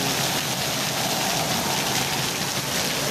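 Heavy rain pours down steadily, a dense, even hiss of water striking surfaces that fills the whole clip without a break.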